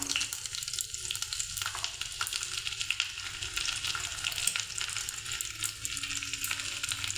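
Green chilies and crushed ginger fry in hot ghee in a pan, giving a steady, close crackling sizzle that holds an even level throughout with no talking.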